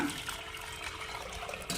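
Water trickles and splashes steadily as it is squeezed from grated pumpkin, a wet liquid pour close by, with a brief louder splash near the end.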